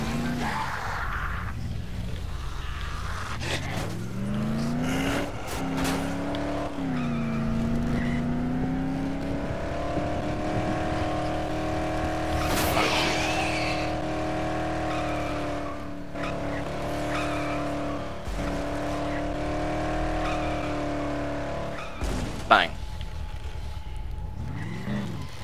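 A car in the Dead Island video game drives with a sustained engine drone, tires squealing and skidding through long slides, with a few thumps along the way and no talk.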